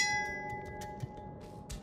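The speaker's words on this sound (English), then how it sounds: "The bell opens the gate." A bell rings in The Lord of the Rings: Gollum video game. One struck tone hangs and fades over quiet ambient background sound, with soft knocks and rustles.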